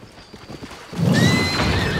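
A horse in Zelda: Tears of the Kingdom whinnies loudly and up close, a bright rising neigh over a brief low rumble, with soft hoof-like clops beforehand in an otherwise quiet game scene.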